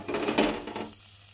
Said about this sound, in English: Basically, you can add everything together. There we go. and let this fry up.